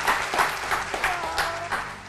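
Audience applause at a small event, a brief burst of clapping with rhythmic peaks, moderately loud and fairly close, lasting about two seconds.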